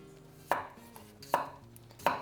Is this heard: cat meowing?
no